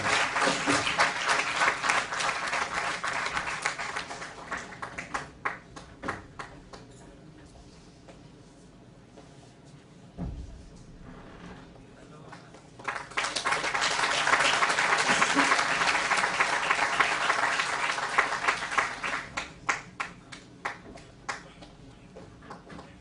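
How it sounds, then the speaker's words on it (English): Audience applause at a cadet passing out parade, two long waves of clapping, moderately distant with a quieter lull between them as the crowd settles and then swells again. "Please give a big round of applause for him."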